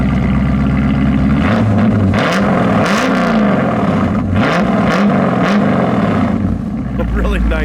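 A 1972 Chevrolet El Camino with chrome-tipped dual exhaust burbles at a loud idle and is blipped through several rising-and-falling revs, with people talking over the engine.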